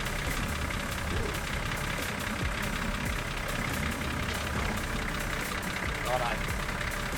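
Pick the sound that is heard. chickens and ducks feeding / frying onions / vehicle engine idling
vehicle engine idling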